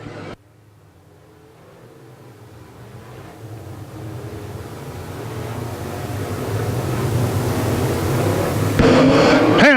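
Sport modified race cars at Quincy Raceways drone steadily, the engine roar swelling gradually louder over several seconds before a sharper, closer burst of noise at the very end.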